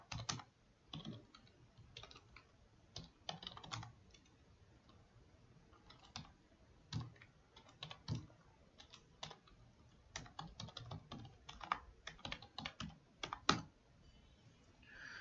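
Rapid, uneven keystrokes on a computer keyboard as an awk command is typed into a Unix shell, a close, steady patter of soft clicks with brief pauses and a few sharper taps, no voice.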